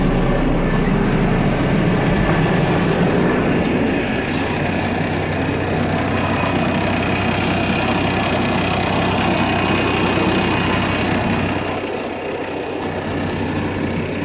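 A Mahindra tractor idles steadily with its PTO engaged to run a Farmi logging winch, a continuous close, loud diesel rumble with a faint knock, dipping slightly near the end.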